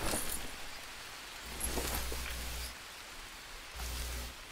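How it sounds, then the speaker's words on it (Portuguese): Rain falling over a boat, a steady broadband hiss with low rumbling swells that rise and ease a few times, continuous and fairly close, with no voices. "Olha pra cima, tá debaixo da chuva, hein?"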